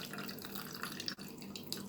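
Water running over canned tuna during rinsing, a soft, steady trickle and splash with a few light drips, faint and close, with no talking.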